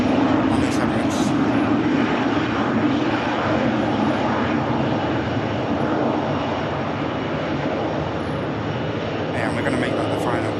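Emirates jet with GE90 power plants, a steady loud engine roar that holds for the whole stretch at an airport, close and continuous, with a voice talking over it.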